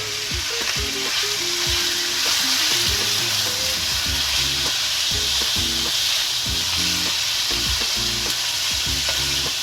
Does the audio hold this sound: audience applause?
no